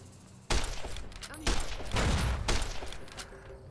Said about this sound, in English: They ran over their own explosive.